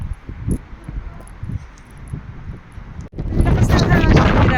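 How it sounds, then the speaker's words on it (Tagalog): Strong gusting wind buffets the microphone on an outdoor basketball court in Avondale, New Zealand, on an early spring day, with loud rumbling roar building in the second half after softer gusts and occasional speech. "Lakas ng hangin. Grabe."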